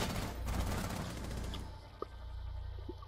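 Gunfire in Rainbow Six Siege, a dense burst of rapid shots loud at the start that drops away after about a second and a half, leaving faint game ambience with a couple of small distant pops.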